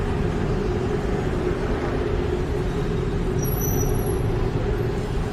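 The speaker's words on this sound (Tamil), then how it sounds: "டிராஃபிக் பயங்கரமாக இருக்குது." Heavy night traffic on a Bangkok street makes a dense, loud, continuous roar of engines, with a brief high hiss like an air brake partway through.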